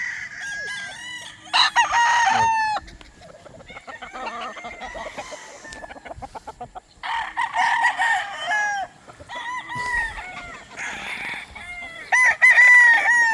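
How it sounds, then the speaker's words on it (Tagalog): A rooster crows repeatedly in loud bursts alongside chickens clucking in a gamefowl yard, the calls close and overlapping with brief quieter gaps between. "Pero napakaganda manok, oh."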